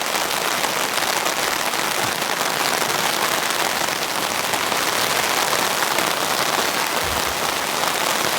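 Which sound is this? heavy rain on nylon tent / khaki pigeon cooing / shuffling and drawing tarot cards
heavy rain on nylon tent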